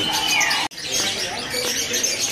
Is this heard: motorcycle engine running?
no